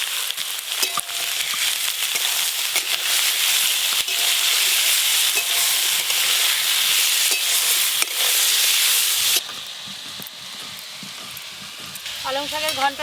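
Cut radish, taro and potato fry lightly in a pan with turmeric and salt, a loud continuous close sizzle with stirring scrapes that drops somewhat quieter partway through and then picks up again.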